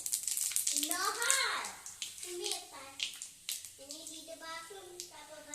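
Panch phoron spices sizzling in hot oil, a steady hiss that is strongest at the start and continues more faintly beneath someone speaking close by.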